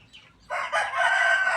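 A Burmese fighting rooster crows loudly and close by, a single strained call after a brief quieter squawk.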